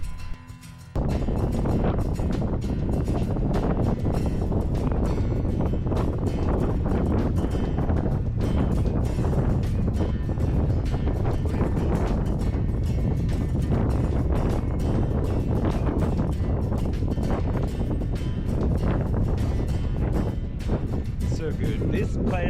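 Wind buffeting a microphone at a breezy outdoor spot, a loud continuous rumbling roar with gusty swells running the whole time.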